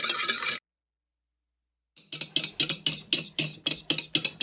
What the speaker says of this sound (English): I'm gonna start timing and start whisking.